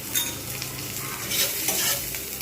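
Tomato, onion and green chili sauté in soybean oil, giving a loud, steady sizzle with stirring noises close by and no voices.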